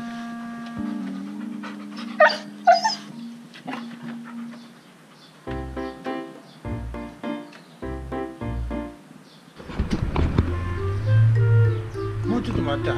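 A husky puppy whines, pants and makes talkative, yowling vocalizations as if demanding food, close to the listener, with a voice speaking in between and a louder burst of whining near the end.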